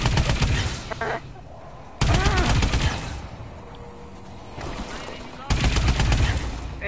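Gunfire in a zombie video game: three loud bursts of rapid automatic shots, separated by quieter gaps.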